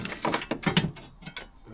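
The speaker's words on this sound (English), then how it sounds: "So we're doing it old school. Ratchet and a socket set, that's all you need." Ratchet and socket set loosening 13mm screws on a VW T5.1 van during ABS pump replacement, giving a run of short clicking bursts in quick rhythm, close and moderately loud with no talk.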